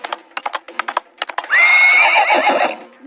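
Rapid hoofbeat clops come first, then a loud, long horse whinny rises and holds before fading, a sound effect in an animated story of a pharaoh riding a horse.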